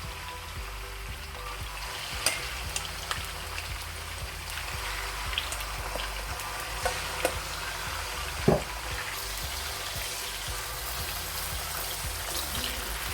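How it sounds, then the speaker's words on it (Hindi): Boneless chicken, a kilo of it, sizzling and crackling in hot oil in a handi, a steady close hiss with scattered pops, no voices. "ऑयल गर्म हो गया है, अब इसमें हम चिकन डालेंगे।"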